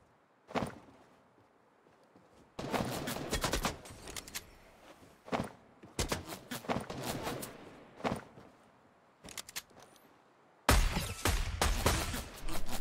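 An automatic sniper rifle in Fortnite fires in rapid bursts, dense crackling volleys separated by brief pauses, with single sharper shots in between and the loudest burst at the end.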